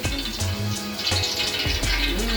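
Onions go into a large pan of hot oil, over half a kilo, for an Arabic dish, giving a loud, continuous close-up sizzle and crackle with faint tonal sounds underneath.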